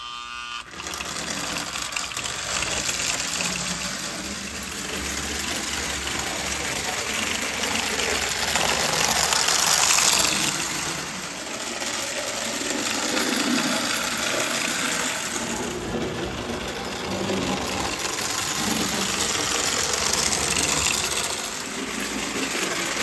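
A die-cast Dorfan toy train runs roughly on a homemade gear, giving a loud, continuous mechanical whirring and grinding. The noise swells and dips as it goes and carries on for over twenty seconds with no talk.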